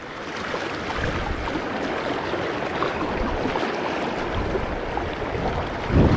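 Steady rushing of river water flowing in Zoar Valley, a continuous broadband wash with no pauses, fairly close and even in loudness throughout.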